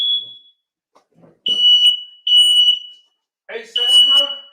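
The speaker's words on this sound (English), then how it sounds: "My fire alarm just went off." A home smoke alarm sounds in loud, shrill beeps, first briefly, then in repeated bursts, with a voice speaking over the last of them.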